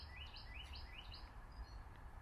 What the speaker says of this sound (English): All you hear is birds.